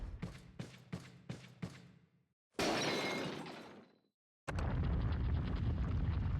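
Rocket shots exploding in a video game: a quick string of four sharp blasts, then a long roaring burst that fades, a gap, and another loud sustained crash, all close and without talk.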